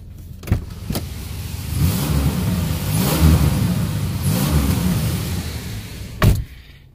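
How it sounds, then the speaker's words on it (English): A 1998 Oldsmobile Eighty Eight engine with an exhaust leak revs up and holds a steady, close rumble for several seconds, with sharp clicks near the start and end. "if you can hear that, there is an exhaust leak"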